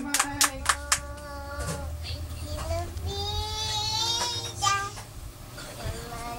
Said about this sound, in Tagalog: Palakpak muna. Palakpakan!